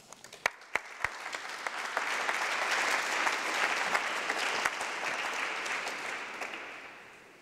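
An audience at a lecture on painting in Munich breaks into applause to welcome the speaker, opening with a few sharp individual claps that swell into steady, dense clapping before slowly thinning out.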